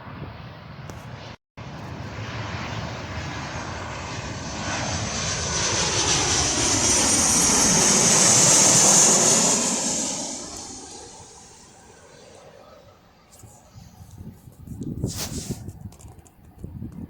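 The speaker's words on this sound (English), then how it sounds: "Oh, we've got another plane! Another 737 from Jet2!" A Jet2 Boeing 737 on its landing approach swells into a loud, broad engine roar with a falling whine, peaks overhead, then fades into the distance while faint outdoor noises remain.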